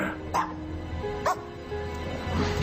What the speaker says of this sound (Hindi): इस कुत्ते में तो हिम्मत है।